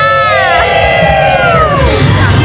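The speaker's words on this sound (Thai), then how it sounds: "ขอเสียงพี่สามหน่อยค่ะ" A loud crowd cheers and shouts continuously at a Thai Buddhist Lent candle procession by a police nursing college, with high-pitched whoops and excited voices rising over a dense babble.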